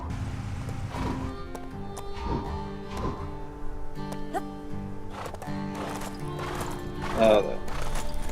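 Horses whinny and snort over plodding hoofbeats in LEGO Marvel Super Heroes 2, with a louder neigh near the end; a voice speaks intermittently over a game-like musical background.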